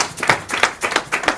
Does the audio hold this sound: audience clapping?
yes